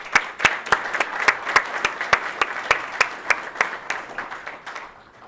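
Audience applause at a family business awards event, with sharp, evenly spaced claps standing out over a wash of clapping from the crowd. The sound stays close and loud, then thins and fades out near the end.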